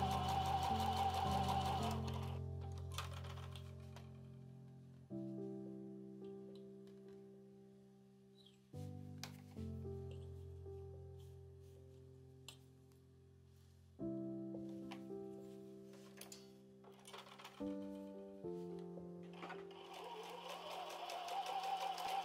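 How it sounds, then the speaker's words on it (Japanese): A sewing machine stitches along the edge of quilt batting for a marché bag, running in steady droning bursts that stop and restart several times, fairly close and moderately loud. "このように作ったらミシンで縫います。"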